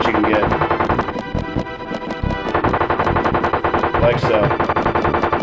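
Rapid-fire gunfire from The Simpsons: Bart's Nightmare, a retro video game, plays as loud, tightly spaced bursts of electronic shots running through the whole stretch. A voice speaks briefly over them.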